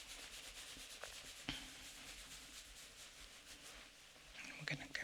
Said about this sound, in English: I'm just going to do a bit of rubbing across the whole scalp like this.